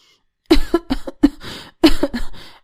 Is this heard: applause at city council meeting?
no